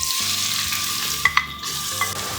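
Three medium onions chopped very fine sizzle steadily in hot oil for a Kerala chicken curry, a broad continuous hiss broken by a couple of sharp clinks of a utensil against the pan, with background music and no talk.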